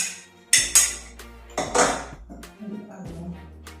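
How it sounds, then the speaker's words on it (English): A spoon clinks and scrapes against a cup while stirring a spoonful of olive oil into coffee, a few sharp taps and rattles close by with quiet gaps between. "Then you mix it very well. You mix it very well, guys. Just like as I'm doing right now."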